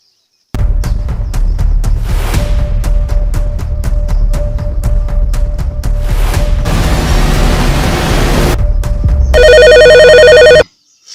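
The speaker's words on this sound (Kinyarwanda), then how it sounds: "ese telefone yanjye ndi kumva iri gusona" A telephone rings loudly in a rapid repeating pattern, then a brighter electronic ringtone takes over near the end before cutting off.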